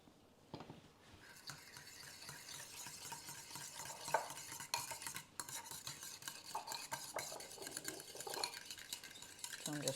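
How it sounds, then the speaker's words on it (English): Caesar salad dressing stirred by hand in a bowl, a quiet, continuous swirling with occasional light clinks of a utensil against the dish, close and soft, with no voices. "So I'm just stirring it up."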